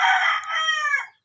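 A released fighting rooster crows once, loud and close in a garden, a single drawn-out call of about a second that trails off into silence.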